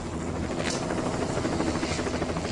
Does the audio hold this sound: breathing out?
no